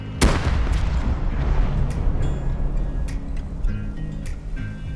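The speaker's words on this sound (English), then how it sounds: "throwing the grenades down from angles that are unreachable by Bradley as shown in the video" In the video game Rust, a grenade blast booms near a Bradley tank, one sharp near explosion followed by a rumbling tail and scattered fainter metallic impacts.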